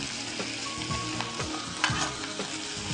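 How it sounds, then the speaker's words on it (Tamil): Chicken pepper fry sautéing in a pan with chilli powder and salt, a steady sizzle broken by repeated scraping stirs of a spatula, close and continuous with no talking. "இப்போ இது நல்லா வதக்கி விடலாம்"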